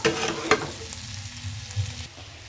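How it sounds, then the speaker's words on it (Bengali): Washed lentils fry in a pan and are stirred, with a few loud spatula scrapes at the start, then a low bubbling sizzle that tails off. "এবার আমি ধুয়ে রাখা ডালটা দিয়ে দিলাম। 1 মিনিটের মতো নাড়াচাড়া করে নেব ডালটা।"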